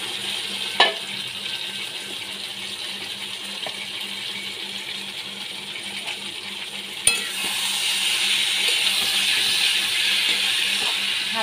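Prawns marinated in salt and turmeric drop into hot oil for a prawn kalia, giving a steady soft sizzle with light clinks of a utensil, then a sharper clatter after which the frying hiss grows louder and fuller.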